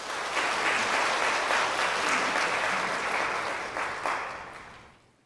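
A church congregation at a Sunday service claps in welcome, a dense burst of applause from many hands that holds steady and then tapers off toward the end.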